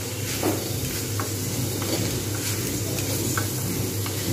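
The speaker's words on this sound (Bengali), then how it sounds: "এগুলো সব আমি কিন্তু এবারে ভালো করে ভাজবো।" Masoor and moong dal dry-frying in a pan for sabudana khichdi, a steady close sizzling hiss broken by a few faint scrapes of stirring, with no talking.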